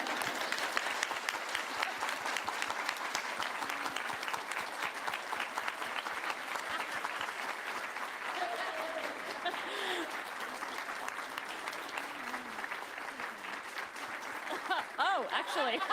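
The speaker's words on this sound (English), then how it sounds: "applaud Rose for a minute" Conference audience applauds keynote speaker Rose in a long, even stretch of many hands clapping, moderately distant, with a few voices and laughter rising through it near the end.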